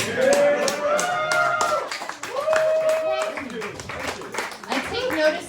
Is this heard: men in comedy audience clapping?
yes